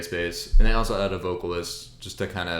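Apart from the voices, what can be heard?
No everyday noise stands out behind the speech.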